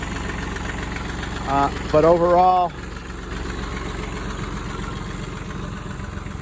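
A Branson 2515 tractor engine idles steadily after a cold start, a low continuous rumble with faint knocking throughout, while a voice speaks briefly near the start.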